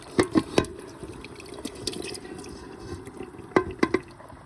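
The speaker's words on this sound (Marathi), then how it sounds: "आता मिक्सरचं जे वाटणाचं पाणी ओततोय आपण, रस्सा बनवतो." Watery ground-masala liquid from a mixer jar is poured into a pot of mutton masala, giving a steady wet pour with a few sharp splashy drips near the start and end, close and fairly quiet.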